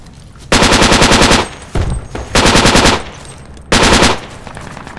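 Loud bursts of automatic gunfire ring out in the Project Reality infantry shooter, three long rapid-fire strings split by short gaps, up close with no voices.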